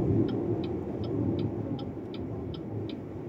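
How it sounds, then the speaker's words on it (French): Steady broadband rush of wind and tyre roll inside a moving BYD electric SUV, either a Seal U or Sealion 7, a continuous moderate hum with a faint regular ticking over it, no talk. "On entend un peu là les bruits d'air et un peu les bruits de roulement."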